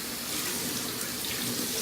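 Kitchen tap running hard into a sink while dishes are rinsed, a steady close splashing hiss with no pauses.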